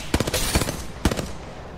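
Minigun fire in a multiplayer shooter game, two rapid bursts of close, loud mechanical shots, the second short and trailing off.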